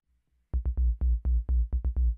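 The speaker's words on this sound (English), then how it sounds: "So the sub bass sounds like this," Very low sub bass in a music mix, heard as a run of deep, booming bass notes in a steady rhythm after a brief near-silent start, fairly quiet overall.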